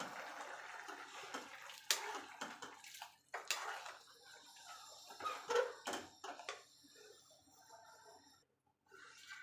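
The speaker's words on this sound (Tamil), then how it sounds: "இந்த அளவுக்கு தண்ணி ஊற்றிட்டிங்களா," Water poured into a pressure cooker of biryani, an uneven splashing and gurgling with brief metallic clinks from the pot, fairly close and alone before dropping to quiet.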